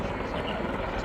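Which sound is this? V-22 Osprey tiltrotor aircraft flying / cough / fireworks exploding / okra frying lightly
V-22 Osprey tiltrotor aircraft flying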